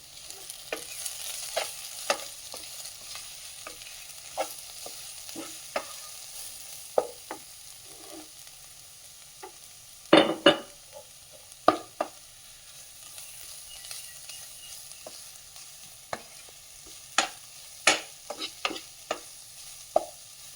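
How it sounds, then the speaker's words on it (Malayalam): Spice powders including garam masala being stirred into Punjabi-style chole curry in a pan, with a steady soft sizzle under scattered spoon scrapes and taps throughout and a louder clatter of strokes midway. "ഇത്രയും പൊടികൾ ചേർത്ത് ഇനി ഇതെല്ലാം കൂടെ ഒന്ന് ഇളക്കി യോജിപ്പിക്കും."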